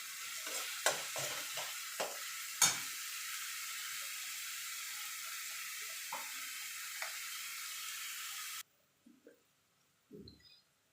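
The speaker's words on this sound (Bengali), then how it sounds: "এবার রসুন বাটাটাও মিনিট খানিক একটুখানি নাড়াচাড়া করে নেবো" Garlic paste fried with onion in a pan, a steady close sizzle with sharp scraping stirs at irregular moments, then the frying cuts out, leaving a few soft knocks and clatters.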